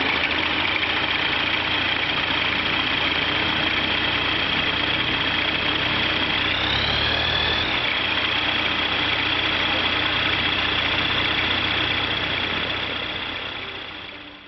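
A Rotax 912 aircraft engine cranks over and catches, then settles into a steady, loud, even idle that holds for several seconds with a brief change in note partway through before slowly fading out.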